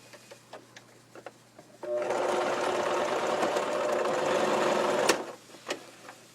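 A sewing machine stitches across a fabric leaf for a quilt applique flower, running in one steady, close, continuous burst of several seconds after a few soft handling taps.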